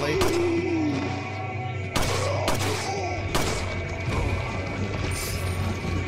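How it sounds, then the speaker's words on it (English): Repeated pistol shots strike an enemy's shield in Resident Evil 4, each a sharp crack or heavy thud spaced about a second apart over a steady low game hum, with a voice talking through it. "look how much it takes to destroy the shield with the pistol"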